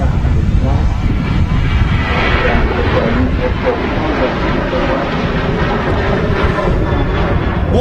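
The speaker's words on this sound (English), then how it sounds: "there is an aircraft rolling, which is another Ryanair 737-800" A Ryanair Boeing 737-800 begins its takeoff roll at Manchester Airport, bound for Prague. A loud, steady broadband jet roar fills the air throughout.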